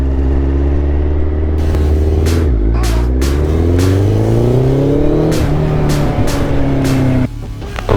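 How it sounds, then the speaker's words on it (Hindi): A sports motorcycle fitted with an aftermarket exhaust revs hard and close, its rough note climbing and falling in repeated sweeps before dropping off near the end. "जब भी आप बाइक लो या आप जब भी एग्जॉस्ट लगाओ, तो ऐसा एग्जॉस्ट होना चाहिए जो आपके आसपास वाले लोगों को ना इरिटेट ना करे।"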